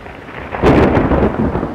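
A loud rumble of thunder rolls in over steady rain, swelling after a brief moment and staying heavy to the end.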